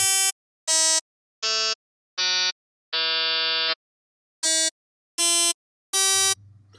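Sustained synth notes from a Serum pad with the filter cutoff following the keyboard, played as a series of separate clean tones at changing pitches, mostly short with one longer held note, heard alone and fairly quiet.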